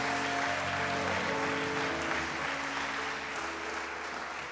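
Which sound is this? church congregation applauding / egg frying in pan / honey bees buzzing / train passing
church congregation applauding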